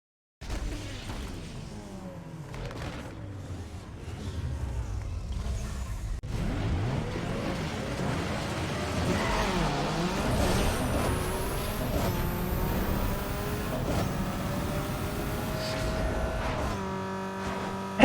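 A 1.8-litre I4 Mazda Miata MX5 with 20 psi of turbo boost launches in a Need For Speed Underground 2 drag race, its engine note climbing through rising sweeps and shifts, fairly quiet and steady.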